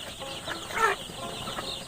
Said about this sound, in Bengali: ব্রোডিং কমপ্লিট করা ফার্মি মুরগির বাচ্চা